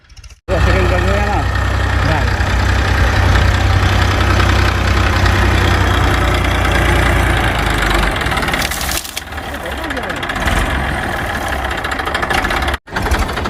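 A tractor engine runs loudly and steadily at a low idle-like rumble, close by during groundnut sowing, with a brief dip near the end before it resumes.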